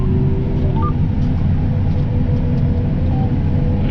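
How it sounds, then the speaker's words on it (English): A John Deere S790 combine harvester on tracks turns around while harvesting wheat, a loud, steady low engine rumble and drone holding evenly throughout with no pauses. "So you can see the combine turns around nicely, and the tracks are pretty easy going."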